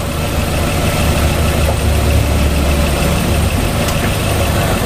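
A Nissan X-Trail T30 idles with a fault between the tensioner and the alternator pulley, making a loud, steady engine drone up close with a faint ticking rattle mixed into the idle.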